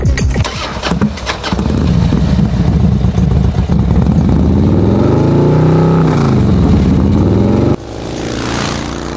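A motorcycle engine cranks with quick rattling clicks, catches and runs loud and close, its revs rising and falling before the sound cuts off abruptly near the end.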